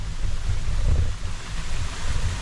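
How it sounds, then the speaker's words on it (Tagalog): Strong spring water flowing over mossy rocks near Paete, a steady close rushing wash with low rumble and no talking. "Lakas ng bukal."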